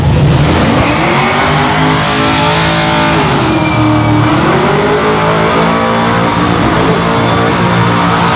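A Cadillac street car revs loudly at a drag race, its engine note rising and falling in a continuous, close roar with some tire noise, no one talking over it.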